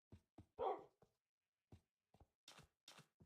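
Minecraft dogs give short, sharp barks and yips in scattered bursts, separated by silent gaps. The barks are clean and close, with no talking.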